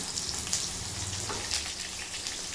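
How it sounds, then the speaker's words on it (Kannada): Onions frying in a pan for a village-style Karnataka bassaru with avarekalu and greens, a steady close crackling sizzle with scattered pops, no talking. "ಈಗ ಬೇಯ್ತಾಯಿದೆ ಈರುಳ್ಳಿ ಬೇಯಲಿ ನೋಡಿ"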